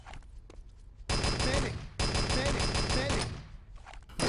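Rapid automatic gunfire in Enemy Territory, a World War II team shooter, with loud sustained bursts and headshots, two long close volleys separated by short pauses and a final burst at the end.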